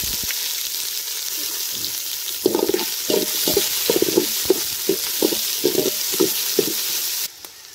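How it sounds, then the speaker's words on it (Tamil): Three large chopped onions frying in hot oil with cloves, cardamom and bay leaf, making a loud continuous sizzle broken by a series of rhythmic scraping stirs close by. "அடுத்து நம்ம 3 பெரிய வெங்காயம் நம்ம நறுக்கி சேர்த்துருக்கோம்."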